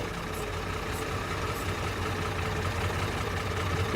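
A Farmall 560 tractor engine idles in a low, steady rumble at a moderate distance, with no other sounds standing out.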